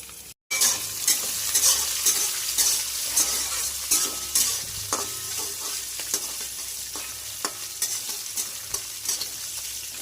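Peanuts, peas, slit green chili, fennel and cumin frying in oil, a steady crackling sizzle with repeated spoon scrapes and stirring clinks throughout, close and fairly loud, no voices.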